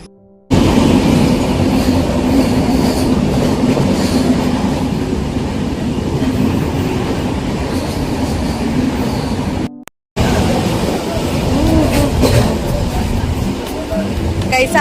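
Train running on rails on the route to Goa near Sangameshwar Road, a steady loud rumble and rattle of carriages throughout, briefly cut out near the end before resuming.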